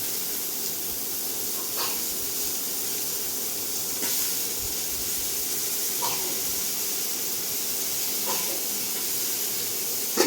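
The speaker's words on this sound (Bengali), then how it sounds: "পেঁয়াজ বেগুন দিয়ে একটু ভেজে নেব" Soaked, squeezed eggplant pieces and onion fry in a pan with a steady, even hiss throughout, with a few faint scrapes at intervals, close by and with no talking.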